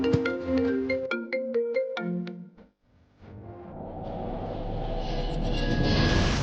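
A phone ringtone plays a repeating melodic pattern of bright electronic tones, loud and close, then cuts off and gives way to a broad rushing noise that swells steadily.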